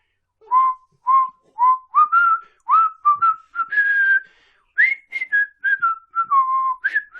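A person whistles a bright melody up close, short notes and slides in a lilting tune with a brief pause midway.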